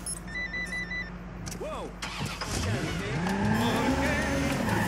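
A stolen car in the Watch Dogs 2 video game starts up and pulls away, its engine rising in a steady, climbing whine over a few seconds, with a brief exclamation from a voice at the start.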